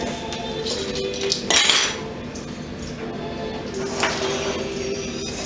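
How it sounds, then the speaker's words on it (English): A spoon scraping and clinking against a metal pot while stirring a mixture for an apple tart, repeated scraping strokes with occasional sharper clanks, close and moderately loud. "Now get you a spoon or a spatula or something and just stir it in there."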